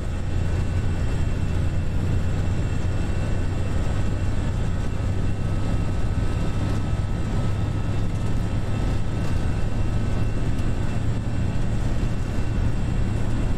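An Airbus A320 in Eurowings livery rolls down the runway at Munich for a takeoff into bad weather in a flight simulator, a loud, steady engine roar and rumble that holds without a break, with no talking.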